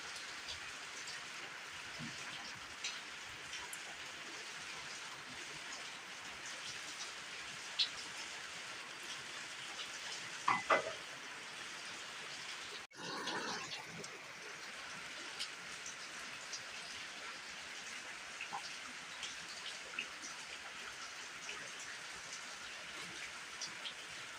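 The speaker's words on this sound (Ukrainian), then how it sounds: "Дощить." Autumn rain falling steadily outdoors on leaves and grass around a house, a soft continuous hiss with faint scattered drops and a couple of brief knocks, heard alone and at low level.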